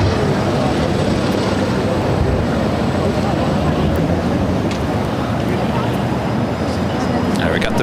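Rotor and engine drone of an LAPD police helicopter flying overhead near LAX, a steady loud broadband roar filling the whole stretch with a constant low rumble and no pauses.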